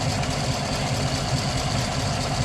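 A Chevrolet Silverado Z71 with a custom stainless steel exhaust and Borla Atak muffler idles with a low, rumbling drone and a faintly uneven pulse from a misfire, steady and close.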